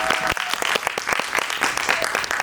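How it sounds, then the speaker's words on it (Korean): Applause from a film screening audience at a Korean movie Q&A session fills the room, dense and steady clapping throughout with sharp individual claps standing out. "박수로 한번 좀 부탁드릴게요."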